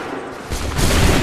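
A loud musket volley roars out in Assassin's Creed 3, with a quieter lead-in followed by a sudden dense burst of gunfire that sustains to the end.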